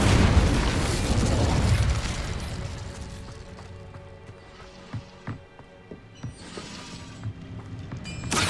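A fire spell cast in Hogwarts Legacy bursts with a loud whooshing, roaring blast that fades over a couple of seconds, followed by scattered small pops and mechanical clicks.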